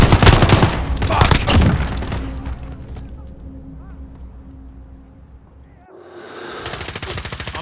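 Bursts of machine gun fire crackle in a Modern Warfare match, dense and loud over the first few seconds, fading to quieter background action before another rapid volley near the end.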